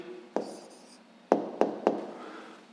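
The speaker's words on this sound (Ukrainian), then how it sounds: "Ну що ж, записуємо відповідь." Pen or pencil on paper writing down a math answer by hand: a few quiet taps and short scratching strokes close by in a hushed room.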